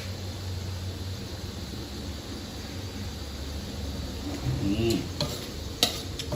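Onion flowers and egg being stir-fried in a pan, a steady sizzle and scrape of stirring throughout, with a few clinks of a utensil against the pan near the end.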